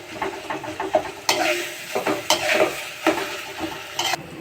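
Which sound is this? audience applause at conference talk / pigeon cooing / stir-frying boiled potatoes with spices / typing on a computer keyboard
stir-frying boiled potatoes with spices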